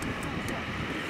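A steady, loud roar of a North American T-28 Trojan's 1450 hp Wright engine at high power during an airshow in Germany, filling the whole moment without a break.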